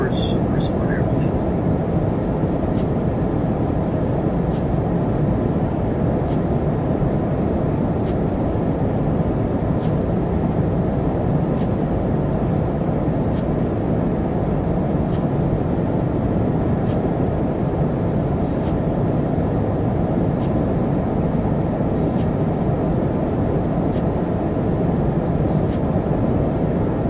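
Steady broadband roar of a Breeze Airways Airbus A220-300 airliner cabin in flight, a constant loud drone filling the whole stretch with no break.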